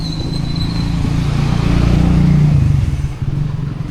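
A motorcycle engine idles and runs steadily close by at a fairly loud level, with a rough low rumble and no talking, during a land tour on Guimaras island.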